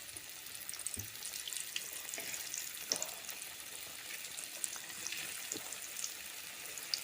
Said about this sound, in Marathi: तर जसे आपण मासे फ्राय करतो ना तसेही फ्राय करून घ्यायचे.